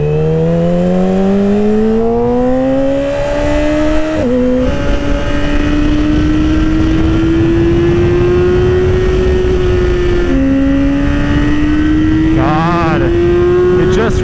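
Yamaha R6 motorcycle fitted with a new chain and sprockets, its engine revving hard and climbing in pitch through several rising sweeps with brief shift breaks, loud and close throughout.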